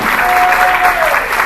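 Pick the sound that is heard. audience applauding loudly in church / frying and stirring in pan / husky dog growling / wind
audience applauding loudly in church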